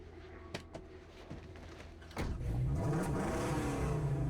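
A car engine in the Mad Max video game kicks in after a few soft clanks and thuds, then revs steadily and loudly with a rising, droning tone.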